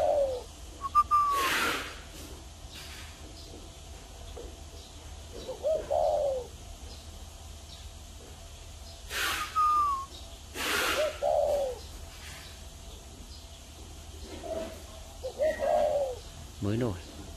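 A spotted dove coos in deep, warm, drawn-out phrases, repeated several times with pauses between, over a quiet background with some soft nearby noises.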